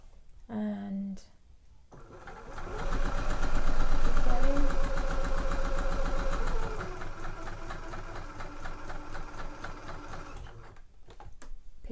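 A sewing machine runs a guide stitch along a trouser pocket turning, a fast steady mechanical chatter that swells and then eases over about ten seconds, after a short spoken remark.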